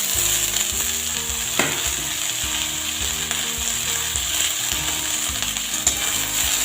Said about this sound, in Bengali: এবার পেঁয়াজ কুচিটা দিয়ে দেব।